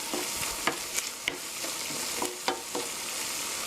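A spatula stirs peppered sauce for eggs in hell in a pan, with soft sizzling under a series of distinct scraping strokes at irregular intervals.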